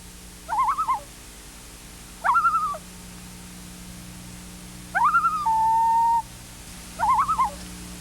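Pacific loon calls ring out as short, wavering hooting notes in four spaced bursts, one followed by a longer steady whistled tone, clear against a quiet background.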